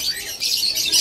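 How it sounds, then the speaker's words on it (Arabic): A caique parrot calls in a bird shop, giving continuous shrill, high-pitched chirps and squawks that sound close and fairly loud, with no talking over them. "ببغاء الكايك"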